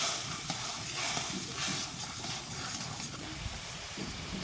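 Ground spice paste meeting hot water and oil in a pan while fish curry cooks, giving a steady broadband hiss and crackle of sizzling that holds at an even level throughout.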